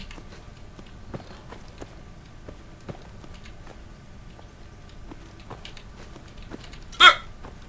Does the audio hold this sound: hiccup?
yes